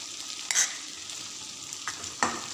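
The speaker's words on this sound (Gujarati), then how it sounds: "હવે આપણે થોડું મિક્સ કરી લઈશું। જે શાકમાં જે તેલ છે એમાં થોડું ચટણીને પણ ચડવીશું।" A spoon stirs chilli-garlic chutney into a potato and capsicum curry sizzling in oil. Soft scraping and frying hiss run steadily, broken by a few louder scrapes against the pan.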